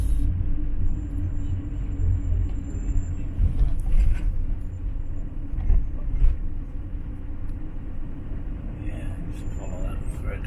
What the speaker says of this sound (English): Heavy vehicle traffic on the bus.